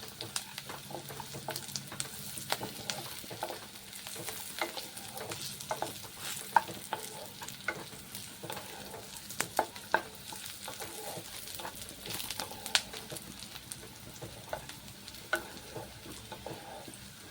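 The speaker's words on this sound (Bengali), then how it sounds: "পেঁয়াজটা ফ্রাই করে নেওয়ার পরে আমি এখানে কয়েকটা কাজু এই পেঁয়াজের সঙ্গে একসাথে ভেজে নিচ্ছি" Sliced onions and cashews fry in oil in a pan for a Bengali fish malaikari, giving a steady, close sizzle broken by frequent scraping and clicking stirs that continue throughout.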